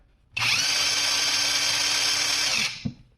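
Grosser GTW cordless impact wrench spinning in loosening mode, a single steady high-pitched motor whine lasting about two seconds, close and loud, ending with a short click.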